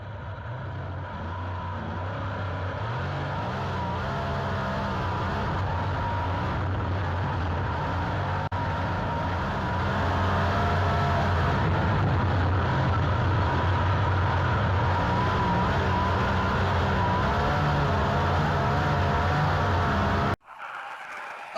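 A race car laps a speedway track at Boomtown Speedway, its engine a continuous loud drone that rises and holds with slight pitch shifts for about twenty seconds, then cuts off abruptly near the end.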